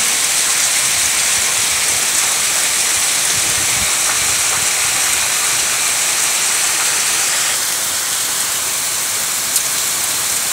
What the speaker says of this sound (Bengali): কি সুন্দর বৃষ্টি পড়ছে।